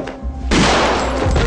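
A single loud gunshot blast goes off on a command to fire in a dramatic film scene, a sudden broad burst that holds and rings on briefly, after a short quieter lead-in.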